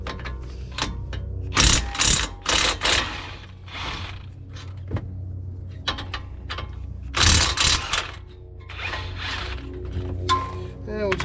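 Impact wrench working loose the caliper mounting bracket bolts on a 2017 Land Rover Discovery during a front brake job, several loud hammering bursts of two to three seconds with quieter workshop noise between.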